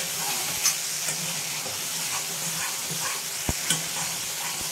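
Masala frying in oil for veg keema until the oil separates, a steady hissing sizzle with a few sharp knocks of a spoon against the pan.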